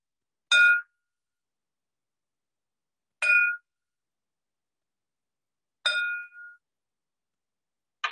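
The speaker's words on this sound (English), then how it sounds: "I'm going to go ahead and invite the bell" A meditation bell is struck four times at steady intervals of about two and a half seconds, each clear metallic ring fading quickly into silence, with the last strike cut short.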